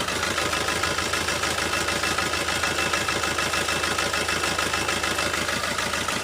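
Car engine idling with one fuel injector disabled, a steady, rough mid-to-low rumble with a continuous rhythmic pulsing throughout, close and even in level, with no talk.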